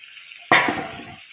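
Tomatoes dropped into a hot pan set off a sudden loud hiss that fades into a softer crackling sizzle, close and alone.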